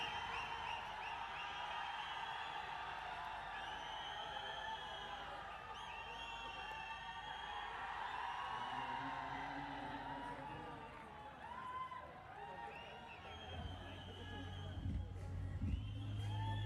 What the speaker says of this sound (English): Single gets a huge appreciation from the crowd. I think that's the biggest cheer we've heard all day.